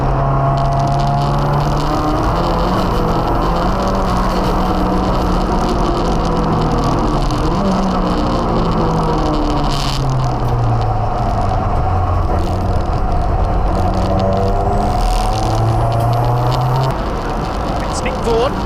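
Thunder Saloon race cars, BMWs and an Audi, roar into the first corner as a loud dense pack of engines, gears shifting and pitches rising and falling while a commentator talks over them.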